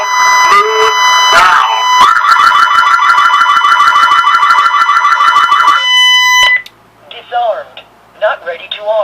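A Lynx Touch panic alarm drives a loud horn siren, close and piercing, with rapid repeating electronic pulses for several seconds before it cuts off, followed by brief quieter synthetic voice-like chirps.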